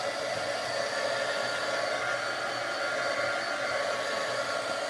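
A hair dryer blows on a painted craft piece, a steady, loud, close whoosh of fan and motor that holds evenly from start to finish without a break, with no voices.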